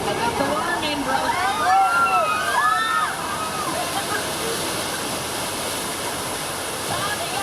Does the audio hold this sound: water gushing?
yes